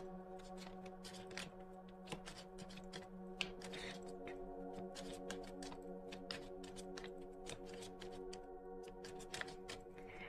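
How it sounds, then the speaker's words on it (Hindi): Tarot cards shuffled during a reading, a busy run of soft papery clicks and riffles over a steady low hum and tonal background drone, moderately quiet and continuous with no talking. "सो शफल कर लेते हैं कार्ड्स"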